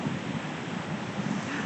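Ocean surf washes onto the shore at sunset as a steady broadband rush with gentle swells, mixed with some wind buffeting the microphone.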